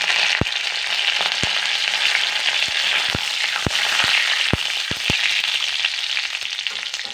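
Curry leaves and mustard seeds frying in hot oil for a Bengali cabbage fry, giving a continuous bright crackling sizzle punctuated by sharp pops scattered irregularly throughout, with no talking.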